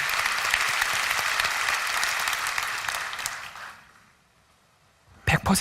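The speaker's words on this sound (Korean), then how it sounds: "하나님께 영광의 박수를 올려드리겠습니다." A crowd at a Christian prayer meeting claps loudly and steadily, then the applause dies away into quiet before a voice starts speaking.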